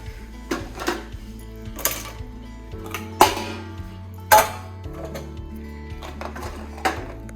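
Spoons and other utensils are set into the rack of a Bosch dishwasher in a home kitchen, giving a handful of sharp, scattered metallic clinks over a low steady hum.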